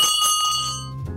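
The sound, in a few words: USS Utah battleship turret warning bell ringing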